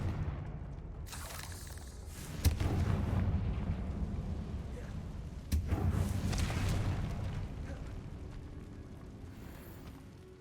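Two Confringo blasting spells explode in Hogwarts Legacy, each a sharp, heavy boom followed by a long rumbling, crackling tail that slowly fades, spaced about three seconds apart.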